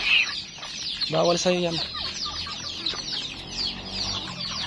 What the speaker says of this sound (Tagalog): nandun pa sa mga kulungan yung mga sisiw